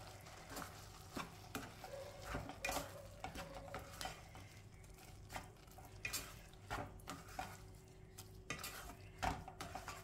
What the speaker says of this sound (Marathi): मिल्क मेड आपण छान मिक्स करून घेऊया.